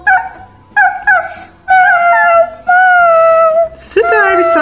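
While a child plays, a voice imitates a dog with a series of short, high yips and whimpering barks, some drawn out into longer howl-like cries, loud and close.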